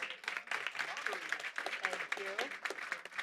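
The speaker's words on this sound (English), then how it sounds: "One more applause." A conference audience gives panelists a burst of applause, close and moderately loud clapping mixed with voices and cheers.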